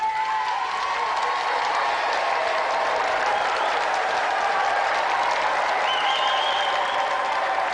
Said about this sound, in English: Round of applause for Cathy Dennis.